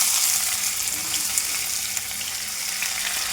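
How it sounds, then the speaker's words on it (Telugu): Raw fish fries in oil in a pan, a steady close sizzle running throughout, with a few faint clinks and no talk. "కొంచెం బ్రౌన్గా ఫ్రై అయితే సరిపోతుందండి, మరీ డార్క్ కాకుండా."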